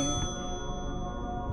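Ringing from the video game Layers of Fear: a sustained metallic chime with several steady tones, clangy and resonant, holding evenly through the short stretch with no speech.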